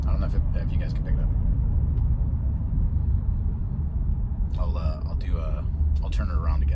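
A Mercedes SL550 with exhaust cutouts rumbles low and steady as it decelerates at about 2,000 RPM, heard from inside the car while a person talks over it.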